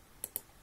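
Two crisp, faint computer mouse clicks a fraction of a second apart, made while selecting edges in 3ds Max, with no talk over them.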